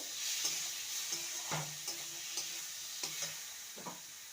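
Fried potato pieces are stirred in a pan for a banana flower curry, with a soft sizzle under a series of distinct scraping strokes of the spoon, close and fairly quiet, and no voices.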